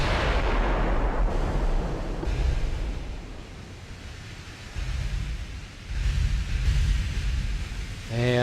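Secondary battery guns firing in the naval game Ultimate Admiral: Dreadnoughts during a Denmark Strait battle, heavy booming blasts and rolling rumbles over a constant sea-like roar.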